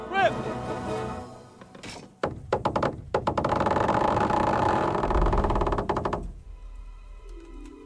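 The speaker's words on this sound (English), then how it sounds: "That was just the first shot. The trebuchet has to be calibrated." A trebuchet firing its first shot during the Talmberg siege battle in Kingdom Come: Deliverance: a brief creak, then a cluster of heavy wooden knocks and thunks swelling into a loud rumbling rush that fades away, with voices partly mixed in.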